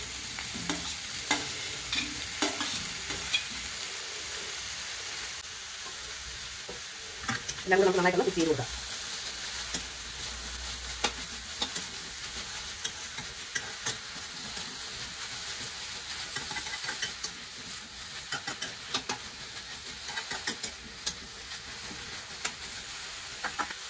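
Chopped okra pieces sizzle and fry in a pan over a low flame for a ladies finger milk curry, with a steady crackle, clear stirring scrapes and a louder burst of stirring partway through.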